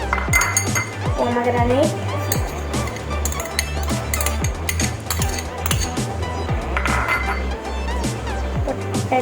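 Bright clinking and scraping of a spoon against a bowl while mixing chopped vegetables with potato, pineapple and pomegranate for a children's salad, steady repeated taps under a voice speaking throughout.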